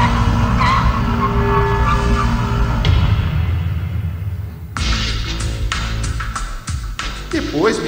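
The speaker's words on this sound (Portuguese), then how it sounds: "o piloto breca o Mustang a 150 por hora, a velocidade aproximada do carro de Luciano" A Ford Mustang brakes hard from about 150 km/h on a test track, tires skidding and squealing loudly with engine roar beneath, followed by a series of sharp bursts near the end.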